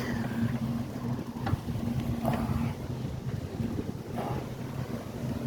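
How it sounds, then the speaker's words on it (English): Wind buffeting the microphone and waves washing in at Fort Myers Beach, Florida, a constant loud rushing roar with low rumbles and occasional gusts, no speech. "The wind is definitely blowing the tide in, that's for sure."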